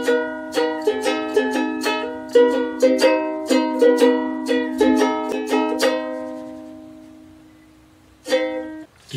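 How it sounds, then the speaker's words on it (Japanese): A small ukulele is strummed and plucked alone, a run of bright ringing chords at a lively, even pace that thins out and fades, then one last strum rings out near the end. "今のはウクレレという楽器でした。"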